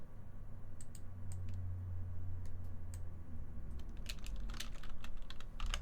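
Steady typing on a computer keyboard at a programming desk, with a rapid run of clicks and taps that grows busier and louder toward the end, over a constant low hum from the room.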